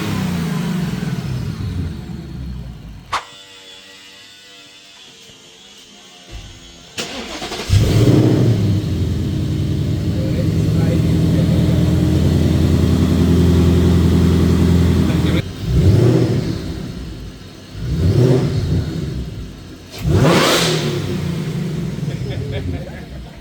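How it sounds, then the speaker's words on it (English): A supercharged Ford Mustang Dark Horse, modified from 500 to 800 horsepower, starts with a sharp catch, then settles into a loud, steady engine drone. Three swelling revs follow near the end, and talk is heard throughout. "the customer is test driving its Mustang Supercharged."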